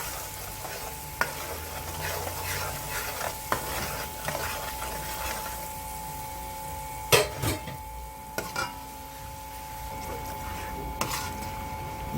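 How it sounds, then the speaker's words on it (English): Food stirred and frying in a pan for a cooking segment, a steady sizzle with scraping strokes and a few sharp utensil knocks against the pan, no talking. "And we're gonna stir this up and fry it."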